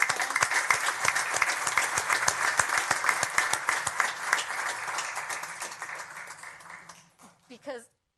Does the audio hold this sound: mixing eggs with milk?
no